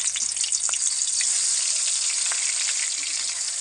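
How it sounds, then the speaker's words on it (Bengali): Siding fish fries in hot mustard oil in a pan, making a loud, dense, hissing sizzle that holds steady throughout with occasional small crackles. "এবারে মাছগুলো দিয়ে দেবো।"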